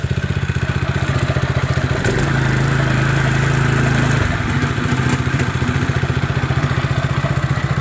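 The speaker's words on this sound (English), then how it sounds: "I will figure out the best way to stop it and turn the engine off." A Bilt Hard 173cc small engine fitted to a DR trimmer mower runs close by, a loud, steady rapid chug with a rougher, heavier stretch in the middle before settling back to its even idle.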